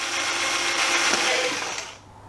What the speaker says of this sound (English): This you drill away from you and not into your body.